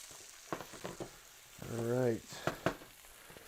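Vegetables for chow mein sauteing in a pan, a soft steady sizzle with clattering stirring sounds, broken midway by a brief voiced sound over the frying.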